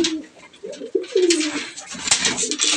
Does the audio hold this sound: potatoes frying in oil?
no